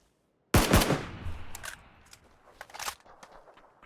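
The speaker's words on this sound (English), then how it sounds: "They're shooting" Gunfire in the video game PUBG: a sudden loud, close burst of rapid shots that decays quickly, followed by a few fainter scattered shots.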